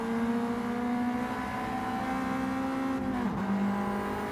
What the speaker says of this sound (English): let's have a listen to this gorgeous car